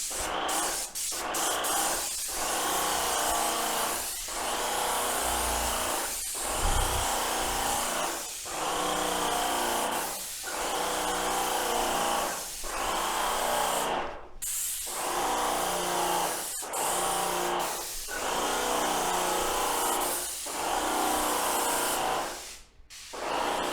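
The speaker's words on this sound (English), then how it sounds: "Back to the spray job." Paint sprayer spraying paint onto interior walls, a loud hissing spray that starts and stops in regular bursts of about two seconds each, repeating a dozen times with short pauses between.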